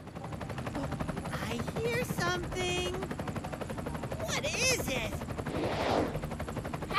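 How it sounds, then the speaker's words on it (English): A helicopter's rapid, steady rotor thumping runs through the whole stretch, with voices talking over it. "Helicopter!"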